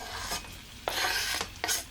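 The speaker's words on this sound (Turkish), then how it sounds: "Zeytinyağında havuçları kavurduktan sonra üzerine ince doğramış olduğumuz pırasaları ilave ediyorum." Carrots and leeks sauté in olive oil in a pan, giving soft, quiet bursts of sizzling and stirring with short pauses between them.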